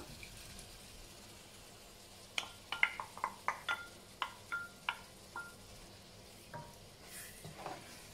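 Red beans and tomatoes stirred in a cooking pot, a quiet bed of soft sizzle broken by a quick run of about a dozen sharp spoon clicks and taps against the pot, then a few scattered knocks, close with no voices.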